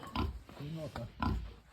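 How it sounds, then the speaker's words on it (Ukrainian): Pigs grunt and oink in a pen at a rural rehabilitation centre's farmyard, several short close grunts in quick succession, with a person talking nearby. "а тут уже свині"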